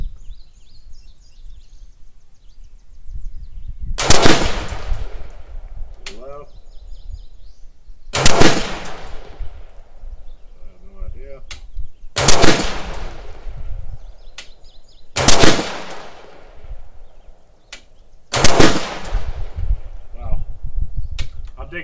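Five loud rifle shots firing 66 grain ammunition during an outdoor accuracy test, evenly spaced a few seconds apart, each a sharp crack with a short echoing tail, with people talking quietly between shots.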